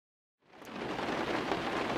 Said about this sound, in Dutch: Alweer regen.